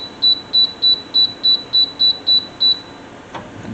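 An oven control panel sounds nine short, crisp electronic beeps in an even rhythm as the temperature and timer are set, followed by a soft click and quiet room noise.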